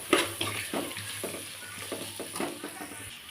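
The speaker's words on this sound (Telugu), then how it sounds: "కొంచెం ఆయిల్లో ఫ్రై అయిన తర్వాత మామిడికాయ తురుము వేసుకోవాలి" Grated raw mango frying in oil with turmeric sizzles steadily while a spoon stirs in repeated scraping strokes against the pan, close and fairly quiet.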